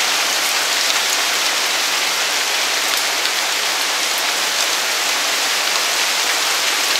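Steady rain falls on a surface, a dense unbroken hiss of drops lasting throughout with no voices, close and even in level.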